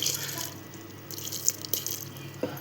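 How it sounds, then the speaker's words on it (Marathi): Water pours and splashes steadily into a metal pressure cooker pot of bottle gourd curry, with a few clinks near the end; no talking. "मग आपण त्यात काय टाकतो हिंग, त्यात टाकूया पाणी."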